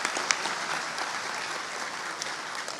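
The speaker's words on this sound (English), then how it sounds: "let's give a round of applause for that." Steady, dense applause from an audience at a high school awards ceremony, honoring a team that won a conference championship; clapping is fairly near and continuous throughout, with a few sharper individual claps standing out.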